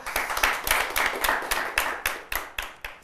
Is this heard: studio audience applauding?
yes